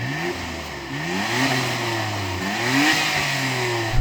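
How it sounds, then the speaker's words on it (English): A Nissan Skyline GT-R R33's engine revs repeatedly, its pitch climbing and falling in several swells, with moderately loud mechanical drone and no talking. "Go on R33, rev up your motor."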